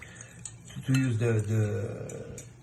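A spoon clinks and scrapes in a bowl while leek vinaigrette is mixed, light metallic taps beneath a voice talking over it.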